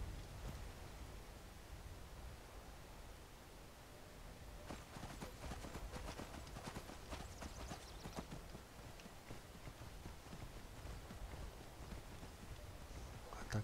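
Horse hooves galloping in the video game Skyrim, a soft, fast continuous clip-clop under a steady rain-like hiss, fairly faint throughout.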